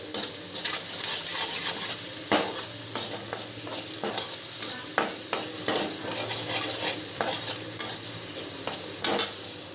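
Red chili powder and turmeric being stirred through a frying mixture in a pan for bhel, steady hot sizzle under repeated scraping, clinking strokes of a spoon, close and with no talk.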